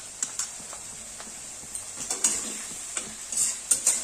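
Bread upma frying slowly in a pan with turmeric, heard as a quiet high sizzle under irregular light taps and scrapes of a spoon against the pan that grow busier toward the end, with no voices.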